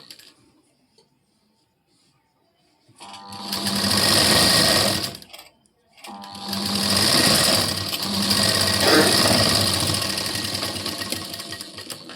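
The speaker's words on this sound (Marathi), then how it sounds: "इथे एक शिलाई देऊन घेऊ" A sewing machine stitches a blouse fitting seam in two runs: a loud, close burst of rapid mechanical whirring, a brief pause, then a longer sustained stretch of stitching, with near silence beforehand.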